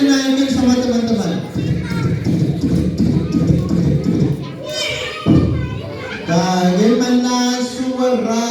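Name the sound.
children imitating horse sounds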